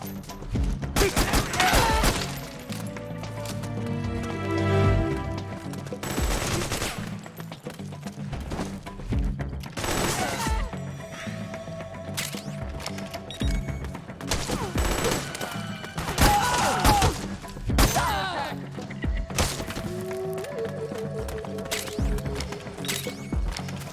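Gunfire in the Metal Gear Solid 4 video game: repeated sharp bursts of shots come in clusters across a busy, dense mix of game sound, with loud volleys alternating with quieter stretches.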